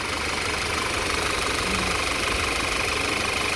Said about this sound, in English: See how the engine's running.